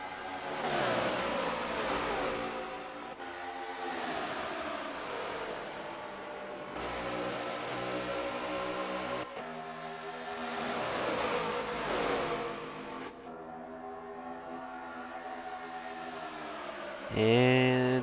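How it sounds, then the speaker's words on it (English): Race cars at a Daytona 500 event lap the track, engines rising and falling in repeated pass-by sweeps that swell and fade, while a commentator talks over them. "And it sounds like we got a car around."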